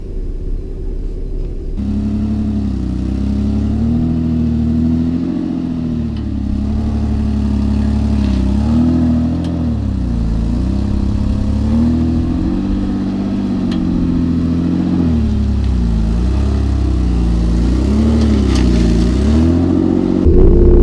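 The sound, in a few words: IFS 4WD engine revving on rough bumpy track, losing traction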